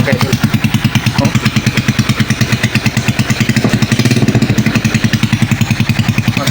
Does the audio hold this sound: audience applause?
no